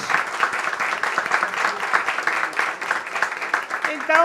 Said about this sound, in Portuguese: Gostaria de pedir uma salva de palmas para ele.